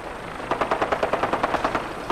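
Fallout 4 gunfire, a steady rapid automatic burst of about a dozen evenly spaced shots, moderately loud and slightly distant, with no voices over it.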